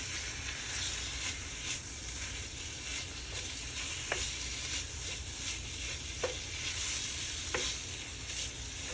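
Vegan ground meat browning in a pan, sizzling steadily and close up, with a few sharp scrapes as a utensil breaks it apart.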